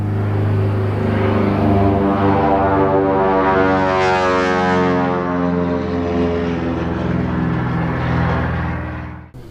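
Boeing B-17G Flying Fortress bomber in flight over the Great Smoky Mountains, its four radial piston engines producing a loud, steady, deep droning hum with layered harmonic throb heard from inside the cabin, continuous until an abrupt end.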